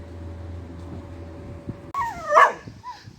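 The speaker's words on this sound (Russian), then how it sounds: "А вот тот здоровый желтый пес, такого желто-песочного цвета, он уже 3-й раз за сегодня подбегает к воротам" A large sandy-yellow dog at a gate gives a short burst of barks and whimpering yips, close and fairly loud after a quiet stretch of low background hum.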